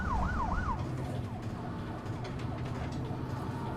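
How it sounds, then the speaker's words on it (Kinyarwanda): An ambulance siren wails in a Rwandan-dubbed action film. Loud rising and falling sweeps come first, then the siren fades and keeps going faintly over a low rumble of vehicle and traffic noise. "Hakuno ambulance tayari."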